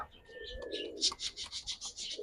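High flyer pigeons coo softly in a short series of rhythmic, throaty pulses, close by and alone with no talk, after a faint high whistle at the start.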